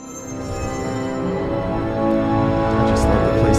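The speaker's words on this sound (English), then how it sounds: "just love the PlayStation Studio sound." The PlayStation Studios logo sting swells, dense and musical, growing steadily louder over a few seconds, rich and full like a short cinematic fanfare.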